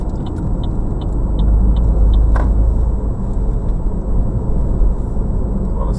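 A car leaves BR-116 by the interchange ramp near Icó, Ceará, and speeds up onto a state highway, giving a steady loud engine and road rumble throughout with faint chirps above.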